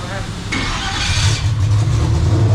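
A 2000 HP Mod Motor race car engine cranks and catches, settling into a loud, rough rumble that continues steadily, with voices talking over it.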